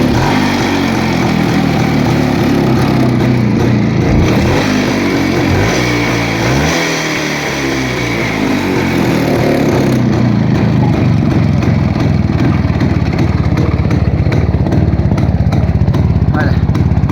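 Motorcycle engine offered for sale in Fergana, running loud and close for a long stretch, its pitch swelling and dipping as the throttle is worked, with a steady rough chugging underneath.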